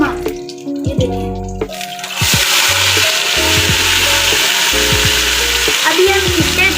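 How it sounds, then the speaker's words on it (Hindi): Kidney beans being fried with whole spices in a pan, a loud steady sizzle with stirring clatter and scraping over it, close and continuous with no talking. "अभी हम इसे 10 मिनट तक अच्छे से भूनेंगे"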